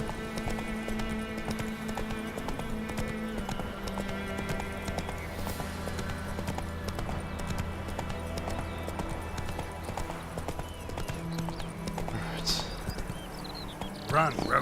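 A horse gallops in the video game Witcher 3, its rapid rhythmic hoofbeats running steadily for the whole stretch under continuous game music, with a voice talking over it now and then.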